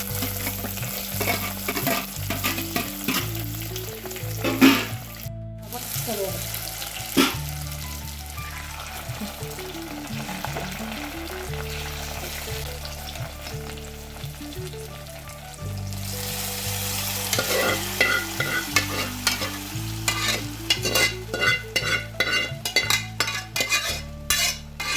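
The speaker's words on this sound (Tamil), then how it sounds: "கடுகு வெங்காயம் எல்லாம் பொரிஞ்ச உடனே வெங்காயத்தை" Mustard seeds and onion frying in a pan for a sour greens dish, a loud continuous sizzle with frequent metal spatula scrapes and clinks against the pan, rhythmic and close, without talk.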